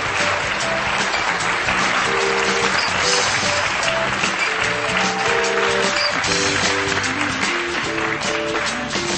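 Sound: audience applause welcoming a guest on stage

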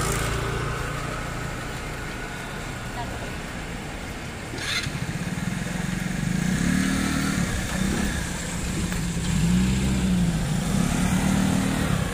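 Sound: motorcycle engine at Taiwan night market

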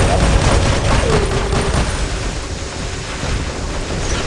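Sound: robot weapon gunfire in the video game War Robots

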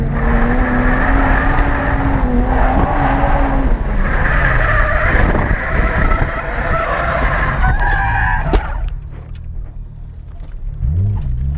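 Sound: car engine revving on track

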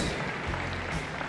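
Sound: audience applause for two archers at indoor archery final

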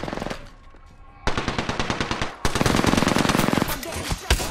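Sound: gunfire from the video game Apex Legends

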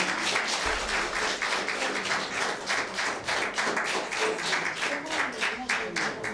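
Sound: audience applause welcoming kindergarten graduates

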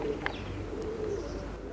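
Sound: tumbler pigeons cooing

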